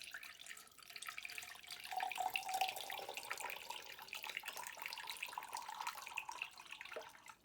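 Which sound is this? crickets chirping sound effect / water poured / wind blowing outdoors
water poured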